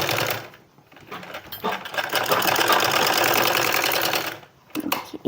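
Sewing machine stitching lace onto a suit sleeve, a loud close mechanical whir with rapid needle rattle that runs steadily for a few seconds, with short starts and stops at each end.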